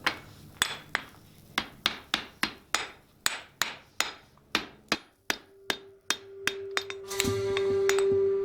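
A Viking spear socket is hammered on a mandrel, with about fifteen sharp metallic ringing blows at a steady pace, close and clear, ending in a sustained ring and grinding scrape.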